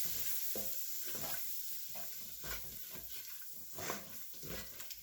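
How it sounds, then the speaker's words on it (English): Butter and flour roux cooking and being stirred in a pan for braised chicken, giving a steady soft sizzle with repeated scraping stir strokes, fairly quiet, with no talking. "We're going to create a little roux in here."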